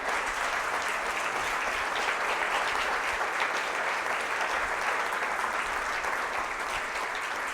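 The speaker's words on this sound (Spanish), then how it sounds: "puedes darle un aplauso a Dios" A church congregation applauds to honor God during a worship service, with steady, sustained clapping that holds at an even loudness throughout and no voices standing out.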